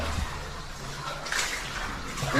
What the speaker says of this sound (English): Is this the waterfall?